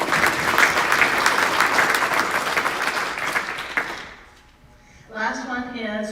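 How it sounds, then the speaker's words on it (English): Audience applause fills a school academic awards night, dense steady clapping from a crowd for about four seconds before fading out, then a voice starts speaking. "So, big round of applause for us."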